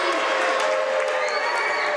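Crowd at a varsity high school basketball game, Atkinson at Clinch, cheering and shouting in a steady, loud wash of voices filling the gym, with sneaker squeaks faintly under it.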